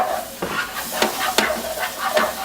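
A spoon scrapes and stirs a flour-thickened sauce in a hot pan for lobster thermidor, with four or five distinct scraping strokes over a soft background sizzle, close and without talk.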